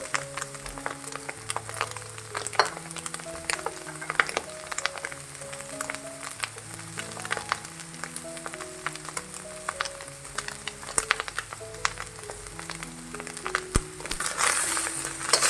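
Green onion, carrots, capsicum and cabbage stir-fried in a hot wok for chicken fried rice, giving a steady close sizzle and crackle with scattered sharp clicks of a utensil against the pan, rising toward the end.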